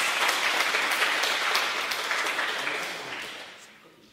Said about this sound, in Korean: 자, 박수 한번 쳐주시고요.